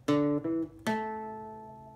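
Electric guitar plays the third and fourth parts of a pentatonic riff from a song. Three clean sustained notes ring out, with the last left to decay slowly. The guitar is close, clear and alone, with no talking.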